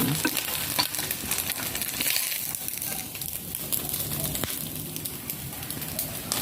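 Leftover suman sa ibos fries in hot oil, giving a continuous loud sizzle and crackle close by with occasional sharper pops, no talking.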